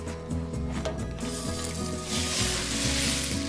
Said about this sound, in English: I'm going to add all of that pork in a single layer so that it can brown evenly